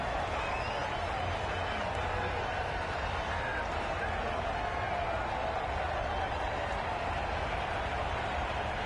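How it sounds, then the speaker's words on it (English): A packed stadium crowd at the MCG roars continuously during a Big Bash League cricket match, a dense, unbroken wash of noise filling the whole stretch with no distinct individual sounds. "Will you listen to the crowd? They are loving it."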